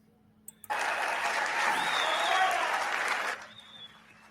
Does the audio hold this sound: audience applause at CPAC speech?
yes